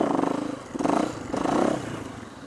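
A motorcycle engine revs in uneven surges during wheelie practice, loud and close, the throttle rising and falling in pulsing bursts with no talk over it.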